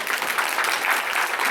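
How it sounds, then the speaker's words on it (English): Audience applause at a campus talk event, a steady dense wash of clapping from a crowd that holds level and continuous throughout, with no voices over it. "Let's clap it up for that."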